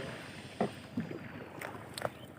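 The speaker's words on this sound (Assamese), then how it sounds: "আৰু এতিয়া আমি নিজে নিজে নাও চলাই যাই আছোঁ" A wooden boat is rowed on a river, with soft oar splashes and knocks at a few irregular moments over faint wind and water.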